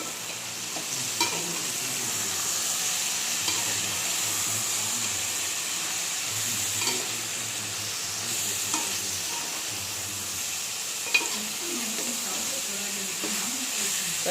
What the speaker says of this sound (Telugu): కూర ఒకసారి తిప్పండి.